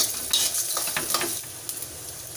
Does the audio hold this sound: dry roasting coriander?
yes